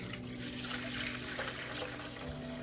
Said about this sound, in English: I'm pouring in my yeasty water into my mixer